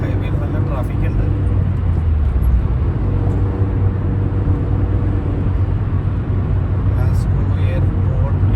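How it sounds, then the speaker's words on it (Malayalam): Constant low engine and tyre roar from within a car driving on a busy UK motorway in Sunday traffic, a loud steady drone with slight passing swells. "ഞായറാഴ്ച ആയിട്ടാണ് ഹൈവേയിൽ നല്ല ട്രാഫിക് ഉണ്ട്."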